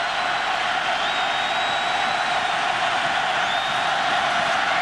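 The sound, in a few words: football stadium crowd cheering on third down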